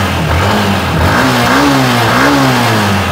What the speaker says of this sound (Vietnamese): Để anh nổ máy cái cho anh em mình nghe nha.